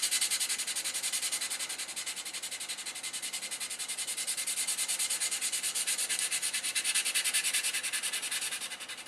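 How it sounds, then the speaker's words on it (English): Hand-sanding putty-filled seams, a steady scratchy rub repeating in quick, even back-and-forth strokes, close and continuous with no talk. "You don't want to sand in the same place too long."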